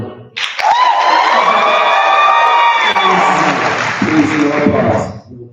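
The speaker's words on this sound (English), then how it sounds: "Please, no applause." An audience at a Board of Education meeting bursts into loud, sustained cheering and whooping with applause after a roll call vote, close and dense, with a voice speaking over it near the end.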